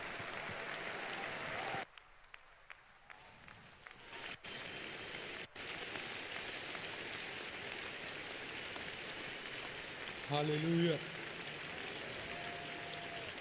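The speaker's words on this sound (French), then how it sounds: "acclamons très fort le Seigneur pendant qu'on reçoit notre Père" A church congregation applauds and cheers at length, a dense, steady roar of clapping that drops away briefly before swelling back, with a few louder whoops near the end.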